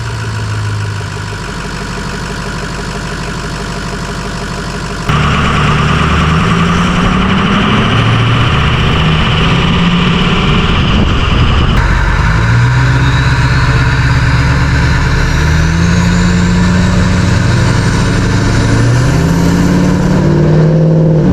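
A Ford Powerstroke 6.0 diesel fitted with a new cold air intake cranks and fires about five seconds in, then settles into a loud, steady, close-up idle with slight shifts in engine pitch.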